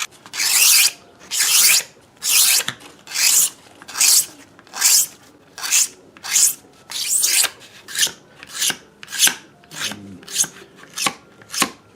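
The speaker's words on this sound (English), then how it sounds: "Now I'll use this razor blade to just chamfer an edge and expose a little bit of the white" A razor blade chamfers the edge of the binding on a Gibson L48 archtop guitar, making about fifteen rhythmic scraping strokes, each a close, dry rasp with short gaps between.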